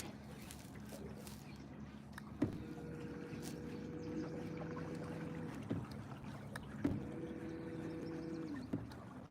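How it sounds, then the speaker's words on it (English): A boat moves quickly downstream along a river bank with its trolling motor set to 90, giving a steady low hum and whine throughout, with a few faint knocks and splashes and no talking. "I've got the trolling motor on 90."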